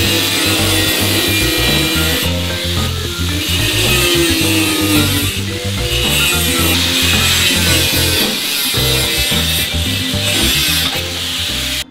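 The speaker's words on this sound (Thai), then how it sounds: "สำหรับการเจาะรูแบบวงกลมนะครับจริงๆจะใช้สว่านเจาะนำใช้จิ๊กซอวิ่งนะครับหรือจะใช้ลูกหมูก็ได้นะครับ" A power tool cuts a circular hole in a cement board and pallet wood bathroom floor, producing a loud, continuous, harsh grinding whine with a shifting pitch, close up, with no voices.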